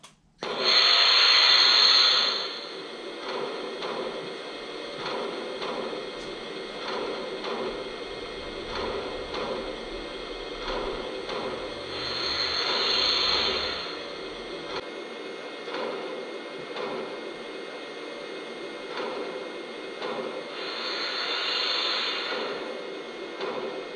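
A Lionel H10 toy steam locomotive runs with a steady mechanical whir and rattle, overlaid by three recurring hissing bursts of its steam effect, close and moderately loud.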